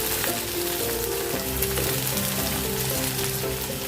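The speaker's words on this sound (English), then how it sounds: "Fry one side 2 minutes, then turn." Korean-style battered food fries in a pan with a dense, continuous sizzle and crackle, loud and close, steady with no talking.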